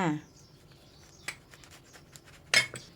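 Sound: knife cutting bread salad roll with crab sticks in half

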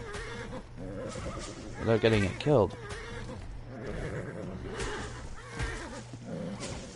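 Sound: horse neighing in video game Ark: Survival Evolved

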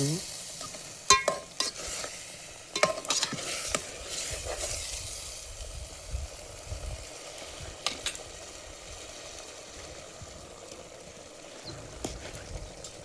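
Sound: whole stuffed brinjal curry sizzling in the pan

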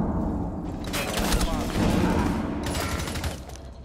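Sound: gunfire in the video game Rainbow Six Siege

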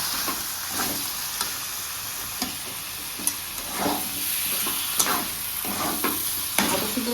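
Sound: stirring vegetable curry with bori and coriander in a pan

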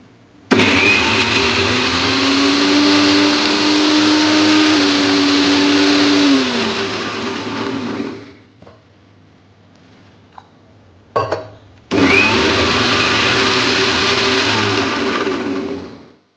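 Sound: mixer grinder grinding curry ingredients into paste

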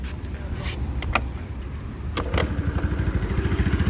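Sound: Honda Dio AF62 scooter kick-started

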